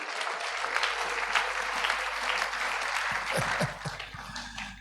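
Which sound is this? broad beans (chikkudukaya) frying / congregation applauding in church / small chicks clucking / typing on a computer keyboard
congregation applauding in church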